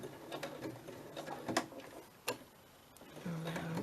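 A sewing machine runs in short, uneven bursts, with faint clicks and ticks in between and a brief hum near the end. It sounds close but quiet, and no voice is heard.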